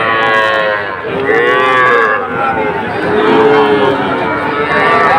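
Cattle moo loudly at a cattle market in Cumilla, several long, drawn-out calls one after another, close by, with faint crowd murmur behind.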